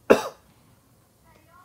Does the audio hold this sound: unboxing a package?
no